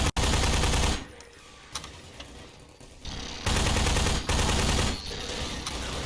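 Heavy automatic fire from soldiers and turrets in a Half-Life 2 2003 mod, long rattling bursts of rapid shots with brief quieter gaps between them, loud and close throughout.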